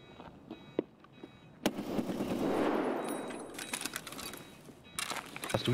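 Rapid bursts of gunfire from a multiplayer shooter on the Interchange map, one sustained volley in the middle and another crackling toward the end, over a steady low background without talk.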